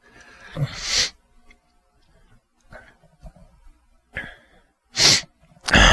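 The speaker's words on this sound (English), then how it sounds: "after I sneeze, I'm always a little sniffly" Two or three sharp, explosive sneezes spaced across a few seconds, with quieter breathy sniffs and snuffles in between, close to the listener.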